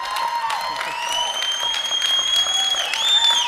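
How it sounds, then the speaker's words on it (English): An audience at the CPAC 2015 conservative conference breaks into sustained, steady applause that fills the room, with a few whistles and cheers rising over the clapping. "Give him another round of applause."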